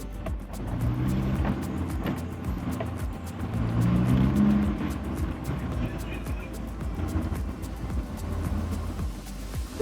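A GWM Tank 300 SUV driving off-road through a blind left-hand bend, its engine giving a steady low rumble with scattered sharp ticks and knocks from the terrain throughout.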